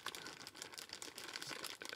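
A thin H&K plastic bag crinkles and rustles continuously as a spring is pushed inside it during installation of a conversion kit for an HK SL8 rifle; close, busy, irregular crackling with no talking.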